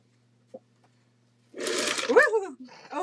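A sewing machine quilts a holiday table runner, starting after a quiet pause with a loud, fast, steady mechanical whir close by, while a voice talks over the stitching.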